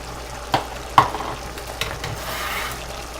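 Canned bean sprouts, rinsed and drained, hit a hot pan of chicken pad thai and are stirred through, giving a steady close sizzle broken by a few sharp scraping stir strokes.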